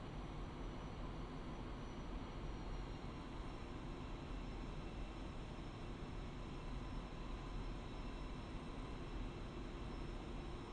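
Steady low jet engine drone of an aircraft taxiing in the DCS World flight simulator, a constant dull rumble with a faint high whine held evenly throughout, no talking.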